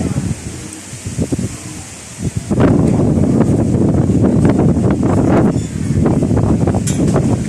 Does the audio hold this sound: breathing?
no